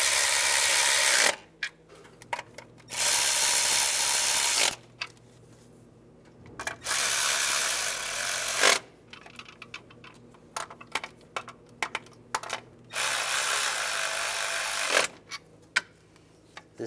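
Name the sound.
tightening valve cover bolts on Chevrolet Silverado with power tool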